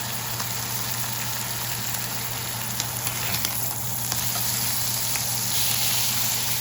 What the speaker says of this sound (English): ย่างเนื้อครับหอมมากตอนนี้